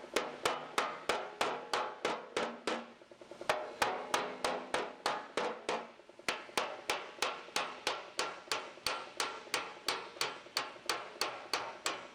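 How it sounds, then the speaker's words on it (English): A hammer planishes an aluminum Jaguar E-Type bonnet panel in a run of sharp, evenly spaced metallic blows, loud and close, with one brief pause partway through. "let's planish that out a little bit and see what we have"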